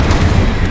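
An Incendio fire spell in Hogwarts Legacy lands as a short, loud, bass-heavy burst, a dense booming blast with no voices.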